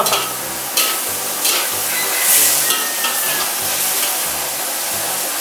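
Squid and holy basil stir-fry sizzles steadily in hot oil in a pan, a close, continuous frying hiss broken by rhythmic scraping and clattering as it is stirred.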